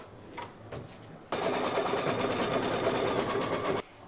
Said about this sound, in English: Back in the machine, and it's going to stitch the placement line for the fabric.